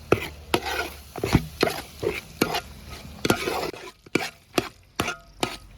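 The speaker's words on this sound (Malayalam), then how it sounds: "ആവശ്യത്തിനുള്ള മല്ലിയില കൂടെ ഇട്ട് കൊടുക്കാം നല്ലപോലെ മിക്സ് ചെയ്യാം" A spoon stirs mutton kurma with coriander leaves in a pot, clinking against the metal in a quick, uneven rhythm of sharp taps over a soft, wet, sizzling mix.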